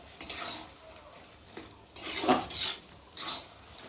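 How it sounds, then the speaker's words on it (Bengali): A spoon scrapes and clinks in a pot while bottle gourd and prawn curry is stirred: several short metallic strokes, close and fairly quiet, with pauses between them. "দেখো আমি এখন এটা দিয়ে ভালো করে নাড়বো"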